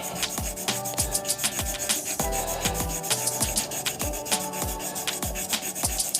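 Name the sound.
sanding gold resin on a wood lathe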